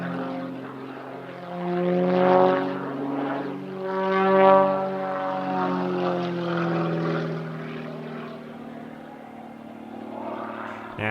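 A propeller aerobatic aeroplane performs unlimited aerobatics at the Midlands Air Festival, its engine drone rising and falling in pitch as it swoops and climbs, loud and continuous with no other sound.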